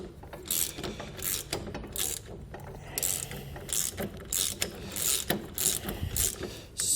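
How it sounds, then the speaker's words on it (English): A 19mm socket ratchet clicks in quick bursts of strokes while snugging down lock nut hardware on a base plate kit for a 2020 Jeep Gladiator, close and crisp with short pauses between pulls. "We'll be using a 19mm socket and wrench in order to snug up our hardware here."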